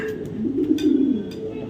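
Racing pigeons give a soft, brief coo, close and fairly quiet, over faint background noise.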